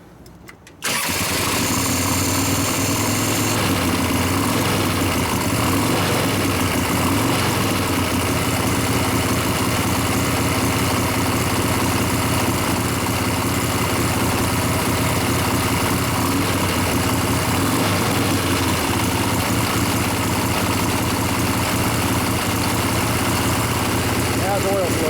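Rebuilt 2001 Gilroy Indian race bike engine cranks and fires within the first second, then settles into a loud, steady, throbbing idle that runs uninterrupted for over twenty seconds, close to the listener.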